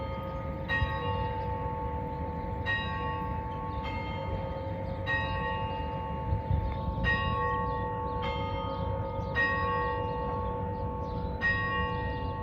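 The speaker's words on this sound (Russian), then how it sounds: "Прекрасное ереванское утро началось со звона колоколов." Church bells ringing on a morning in Yerevan, Armenia, a series of clear, evenly spaced bell strikes heard from a distance over a faint steady background hum.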